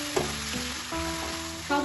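Banana flower with shrimp, salt and turmeric stir-frying in hot oil, a constant sizzle with scraping stirs, accompanied by background music with shifting tones throughout.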